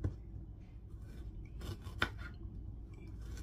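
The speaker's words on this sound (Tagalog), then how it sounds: "maghihiwa po ako ng luya at itong sibuyas" A kitchen knife chops ginger and onion on a cutting board for a Filipino shrimp dish, giving a few quiet, scattered cuts and taps with one sharper knock, close and faint against a soft background.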